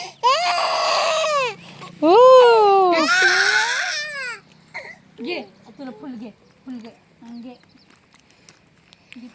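A small child cries loudly in wailing bursts, then settles into softer whimpers and sobs; an adult speaks faintly in between.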